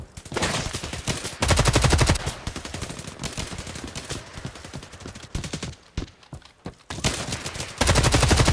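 Gunfire in a video game shooter: dense, loud bursts of automatic fire that rattle almost continuously, broken by brief pauses, then heavier volleys near the end.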